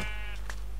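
A single short sheep bleat from a Minecraft-style video game sounds at moderate volume over a steady low background hum.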